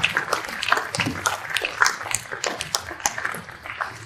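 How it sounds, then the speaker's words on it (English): Audience applause at a national security forum, offered in thanks to a panel of speakers. Claps are dense and uneven, blended into a busy patter that swells and dips in brief bursts through the whole stretch. "So would you join me in just giving them a round of applause to thank them for their time and expertise today?"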